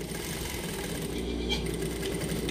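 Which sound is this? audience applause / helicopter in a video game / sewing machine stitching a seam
sewing machine stitching a seam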